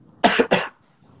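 Two quick, close coughs in a row, loud and sharp, followed by near silence in a quiet room.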